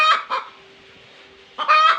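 Chickens in a backyard coop in İzmir, with two bursts of clucking at the start and end of the clip and a quieter gap between them, close to the microphone and with no talk.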